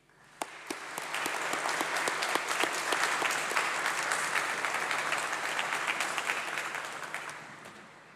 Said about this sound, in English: let's give a huge round of applause, please, for those who have supported you and made all this possible